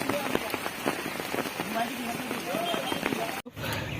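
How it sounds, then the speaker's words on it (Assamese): Heavy rain pours down continuously in a dense, loud hiss of drops hitting surfaces, with a brief dropout near the end before the downpour resumes. "ইমান ডাঙৰ বৰষুণ দি আছে"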